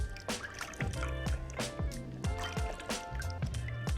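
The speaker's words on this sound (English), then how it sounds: "So I'm gonna go ahead and rinse this off." Cleanser being rinsed off a face with water, heard as close, repeated splashes and wet dribbles in an irregular rhythm at moderate volume, with no talking.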